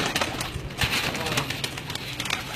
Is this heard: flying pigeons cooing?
yes